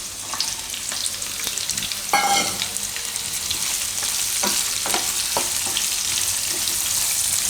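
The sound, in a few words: carrots frying in oil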